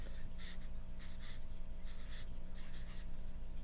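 A hand writes a sentence, the pen or pencil scratching in short repeated strokes, soft and close against a steady low background hum.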